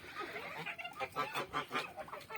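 Geese and turkeys at morning feeding in a farmyard, a run of rhythmic honks and clucks close by, about six calls in quick succession with no talk.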